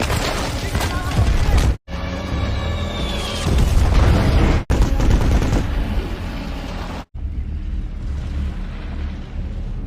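Heavy gunfire in a rocky-hill ambush war film: rapid machine-gun bursts and booming blasts, loud and close, broken by brief cuts, with fainter rumbling toward the end.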